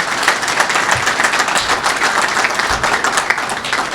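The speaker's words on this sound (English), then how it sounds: "Please give my teammates a round of applause." A round of applause at a university athletics press conference introducing a new athletic director, with many hands clapping steadily and fairly loud for several seconds and no talk over it.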